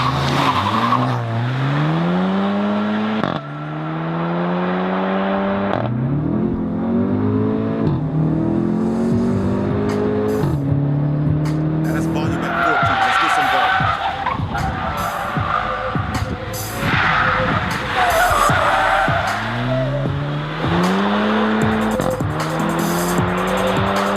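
A 2023 Integra pulls away, its engine loud and close as it climbs in pitch, drops back and climbs again through repeated gear changes, with a rougher, gritty stretch midway.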